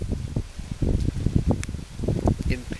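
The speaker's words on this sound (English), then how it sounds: "spectacularly gorgeous, a little bit windy day here" Gusty wind rustles leaves outdoors on a bright day at a landfill, a steady, fairly loud, broadband rushing with irregular bursts and crackles throughout.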